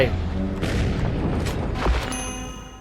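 Gunfire from a 12-gauge 1897 shotgun in The Bureau: XCOM Declassified: a few loud, booming blasts spread across a couple of seconds, with a rumbling tail and a voice talking alongside.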